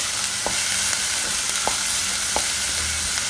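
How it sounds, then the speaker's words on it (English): Onions frying in about two tablespoons of oil in a pan, a steady loud sizzle throughout with a few soft stirring taps, no talk. "first you have to fry your onions. Fry them till they are slightly soft."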